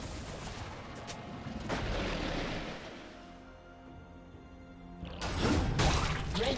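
A turret is destroyed in League of Legends with a heavy booming crash amid rumbling game effects, followed by a quieter lull and a second loud burst of crumbling impact.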